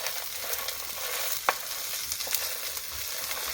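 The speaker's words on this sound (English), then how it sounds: "Give this a stir." Fish pie mixture being stirred in a slow cooker, a low steady background with a few light scrapes and taps of the spoon, no talking.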